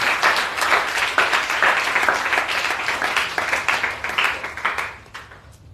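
A church congregation applauds to acclaim Jesus: dense, sustained clapping close and loud for about five seconds, thinning and fading out at the end.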